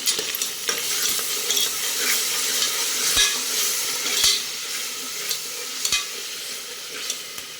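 Ghee rice masala is stirred in a pan, a loud close sizzle broken by repeated sharp spatula scrapes and clacks against the metal at uneven intervals, with no talking.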